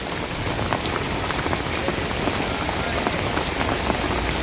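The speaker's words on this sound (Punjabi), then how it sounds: "ਪਿੰਡ ਪੂਲੇ ਦੇ ਵਿੱਚ ਬਹੁਤ ਜ਼ਬਰਦਸਤ بارش" Heavy rain pouring down on a village in Bathinda district, Punjab, with flooded roads: a dense, constant roar of drops hitting surfaces, loud and close, with no voices.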